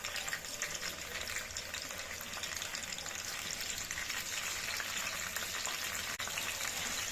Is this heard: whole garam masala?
yes